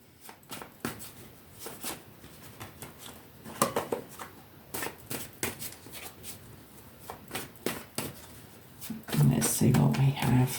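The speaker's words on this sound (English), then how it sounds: "I think I've shuffled them long enough." A deck of tarot cards being shuffled by hand, soft riffling clicks and slaps repeating irregularly for several seconds, with a louder flurry near the end and a person talking quietly underneath.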